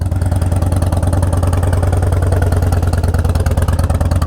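A Harley-Davidson Dyna motorcycle idles loud and close, its deep lumpy V-twin throb running as a steady uneven potato-like pulse the whole time, with no voices.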